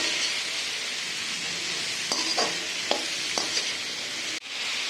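Vegetables including carrot sauté in a pan for creamy pasta, with a steady loud sizzle throughout and a few clinks of a spoon stirring near the end.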